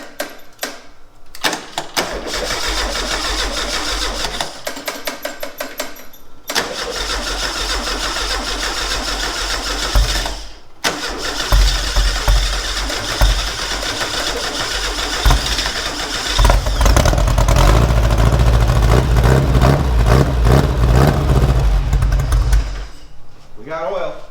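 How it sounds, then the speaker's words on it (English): A Porsche 550 Spyder kit car engine cranks, catches and runs nearby, idling roughly and then revving louder toward the end, with people talking over it. "We'll just start it for a second if it'll run."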